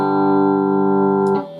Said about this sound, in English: So the G sounds like this